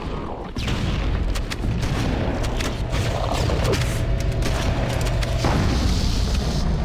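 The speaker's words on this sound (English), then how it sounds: "We're just gonna explode the whole room" A room blown apart by explosions in Halo: Combat Evolved, with a sharp initial blast followed by loud, sustained rumbling booms and crackling debris throughout.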